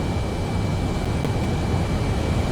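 In the video game Ace Combat 7, a jet aircraft roars steadily as it comes in to land, a constant broadband rush with a thin whine above it.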